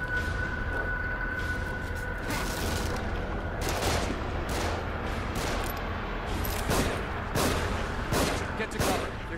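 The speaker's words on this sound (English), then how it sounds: "They're shooting from above." Rapid, dense gunfire from overhead shooters in The Evil Within crackles in loud, continuous bursts with sharp individual shots throughout, while a voice speaks over the shooting.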